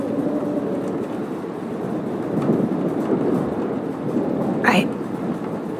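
A thunderstorm rumbles in the video game Life Is Strange as a continuous low roar of thunder and rain, with one brief sharp crack near the end, all at moderate loudness with no talk over it.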